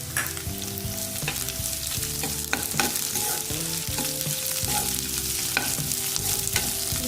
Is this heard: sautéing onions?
yes